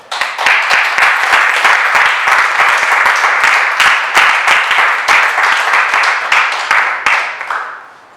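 A church congregation applauds to acclaim the Lord at the start of a teaching on the Ten Commandments, loud sustained clapping from many people with sharp individual claps standing out, fading away at the end.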